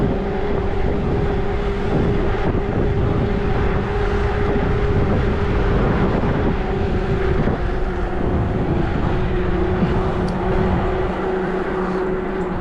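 Strong wind buffets the microphone in a continuous roar near Lake Ritsa, Abkhazia, in November, with a steady engine-like hum running underneath the whole time.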